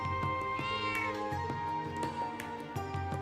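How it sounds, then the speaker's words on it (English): Game cat in Trails of Cold Steel 3 meowing several times in a row, close and clear over a steady musical background, each call rising and falling in pitch. "Meow purr."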